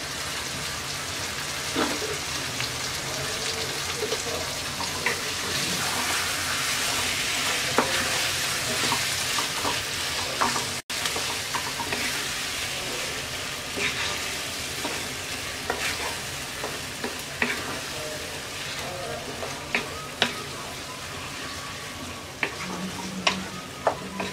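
Chicken sizzles and fries in a pan for pulao, a continuous close crackle with scattered stirring scrapes throughout and no voices.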